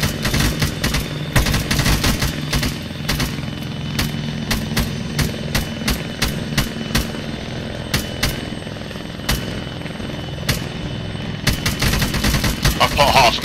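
Gunfire in a co-op military video game mission with a helicopter lifting off: dense bursts of rifle shots and rapid automatic fire over a constant rotor and engine rumble, loud and continuous, with voices speaking faintly in the mix.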